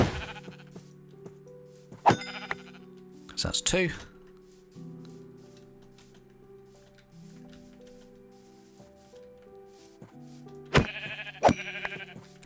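Sheep bleating in the game Minecraft, several short separate bleats near the start and end, with someone speaking briefly between them over quiet game sounds.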